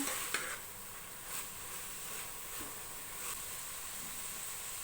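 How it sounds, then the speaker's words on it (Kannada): Steady sizzling of sprouted horse gram frying with tempering in a pan, with occasional stirring scrapes and clinks, no voices. "1 ನಿಮಿಷದಷ್ಟು ನಾನಿಲ್ಲಿ ಫ್ರೈ ಮಾಡ್ಕೋತಾ ಇದ್ದೀನಿ ಫ್ರೆಂಡ್ಸ್, ಒಗ್ಗರಣೆ ಜೊತೆಲಿ ಮೊಳಕೆ ಕಾಳನ್ನ"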